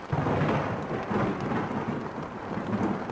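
Heavy rain pours down steadily while low thunder rumbles through a dense, continuous wash of storm noise, with no voices.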